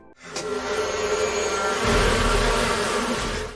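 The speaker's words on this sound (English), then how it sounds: "release a swarm of bees into the trunk" A dense, steady buzzing of a swarm of bees released into a car trunk, close and continuous, swelling slightly louder partway through.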